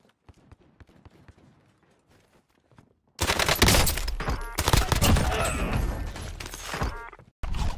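Gunfire in the shooter game Call of Duty Warzone: quiet faint clicks and movement sounds at first, then a sudden loud burst of rapid automatic fire that sustains for several seconds, briefly cuts out, and resumes at the end.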